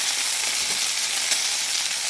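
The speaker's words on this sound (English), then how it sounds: "Add to the frying pan until it's golden brown." Bananas sizzle steadily in a hot pan, a close, even crackling hiss with no voices.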